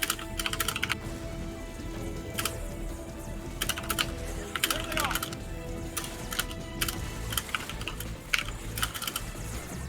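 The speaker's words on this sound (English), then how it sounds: "I was typing something." Typing on a computer keyboard, with rapid bursts of key clicks recurring at irregular intervals over a steady background hum, close and fairly clear for the full length.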